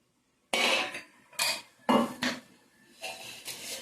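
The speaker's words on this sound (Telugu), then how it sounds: "మొత్తం అంతా కలుపుతారండి అన్నం." Cooked rice is stirred with oil and fresh curry leaves in a pot, giving several distinct metallic scrapes and knocks of a spoon against the pot, spaced irregularly and heard close up.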